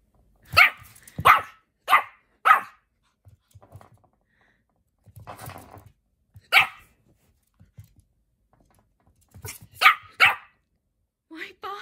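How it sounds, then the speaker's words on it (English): A dog barks at a chew toy in a home: several sharp, loud barks in a quick run, then a pause with a person talking softly, then a few more barks. "He's still a bit confused by it. Marshall, why are you barking at it?"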